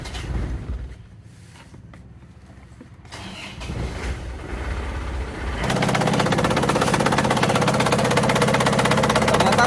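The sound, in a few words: car engine starting and idling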